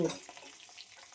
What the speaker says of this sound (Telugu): సర్లే పోపులు ఎగుతున్నాయి కదా